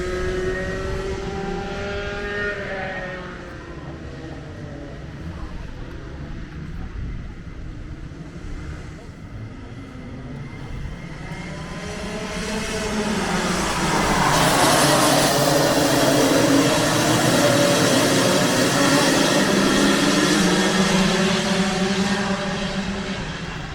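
Go-kart engines race in a kart race, their high-pitched buzzing rising and falling as the karts pass, growing louder and fuller about midway through as more engines swell close by.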